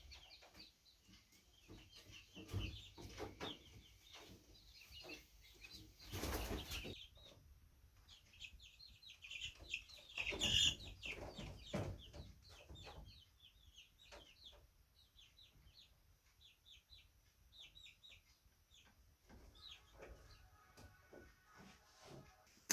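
Hens cluck and chirp quietly inside a coop in Lapland, with soft scattered calls and occasional louder bursts and knocks, faint and close, with no talking.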